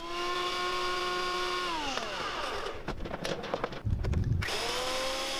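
Thickness planer running as glued wooden boards are fed through, a steady motor whine that drops in pitch under load, then rough cutting noise and a brief thud before the motor spins back up.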